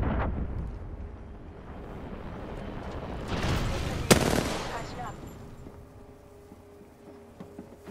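Gunfire in Apex Legends, a burst of shots swelling in the middle with one sharp loud crack, then fading into scattered distant pops under game ambience.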